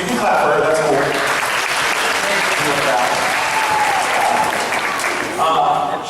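A school audience claps steadily for a young flute player in a jazz band, a dense, even round of applause lasting several seconds with a few voices mixed in.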